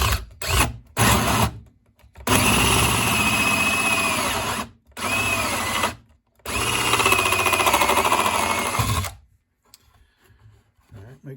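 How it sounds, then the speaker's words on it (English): A power drill bores a hole into a wooden birdhouse in several loud close bursts, stopping and restarting between runs, then falling quiet. "So let's drill this hole."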